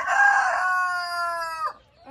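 A rooster crows once, loud and close, a long drawn-out call that fades, followed by a brief cluck.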